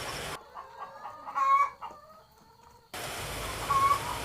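Free-range laying hens kept without a cage on a small home farm, clucking and calling softly at moderate distance, with a brief sharper call mid-clip amid outdoor background hiss.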